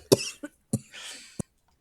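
Several sharp coughs from a person in a casual conversation, coming as a quick pair followed by two more separated bursts, close and fairly loud with brief gaps of quiet between.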